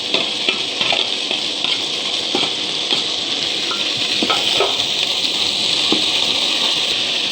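Indian broad beans (avarakkai) sizzle and fry in a pan with onion and curry leaves, a steady close crackling hiss with scattered pops throughout, no voices.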